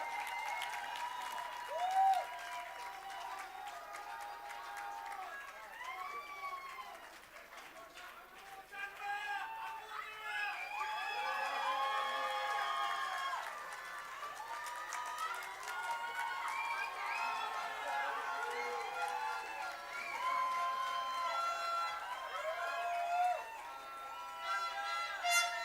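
Audience applause and cheers at a school graduation ceremony, continuous clapping with whoops and shouts rising and falling, some voices talking over it.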